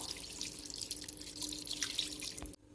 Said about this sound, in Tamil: அதனால நல்லா தண்ணி ஊத்திக்கோங்க.